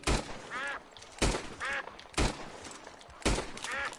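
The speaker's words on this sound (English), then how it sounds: "Can I hear ducks?" Ducks quack in a bayou setting in the Red Dead Redemption 2 video game, several short nasal calls in repeated bursts, each following a sharp loud crack, moderately near with no talking.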